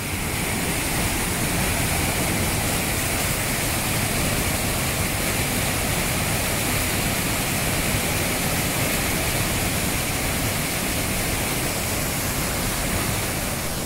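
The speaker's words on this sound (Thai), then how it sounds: "ผมมาในช่วงนี้หน้าฝนครับก็น้ำตกใหญ่ใสไหลแรง" A large rainy-season waterfall pours hard down a cliff, making a dense, unbroken roar that stays loud and even throughout with nobody speaking.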